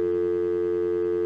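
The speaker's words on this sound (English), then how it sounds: "We got dial tone." A continuous, steady telephone dial tone hums without a break, loud and close, with no voices.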